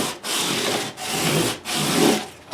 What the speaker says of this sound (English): So this is 400 grit. We're taking out all those marks of the file.